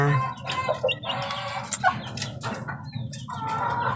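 Thirsty baby chicks peep and cheep in quick overlapping bursts close by, with occasional louder clucks from older fowl and a low background hum.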